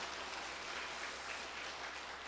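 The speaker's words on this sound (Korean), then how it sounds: "여러분들이 좀 막 뒤에서 박수 좀 쳐주세요" A church congregation claps along during a sermon, a continuous soft wash of hand claps that sounds distant and even, with no voices on top.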